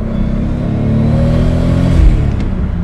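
Toyota Supra MK4 with its 2JZ-GTE turbo engine revs loudly and steadily up close, a dense throaty drone that holds for about three seconds without any talk.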